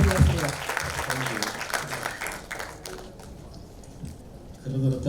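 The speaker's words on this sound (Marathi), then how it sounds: "जोरात टाळ्या वाजवूया संकर्षणसाठी" An audience applauds actor Sankarshan Karhade at an anniversary-event interview with dense clapping that fades into a lighter patter midway, then a voice speaks as it ends.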